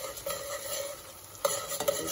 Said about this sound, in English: So what you do is you need to mix all of this around the tomato paste.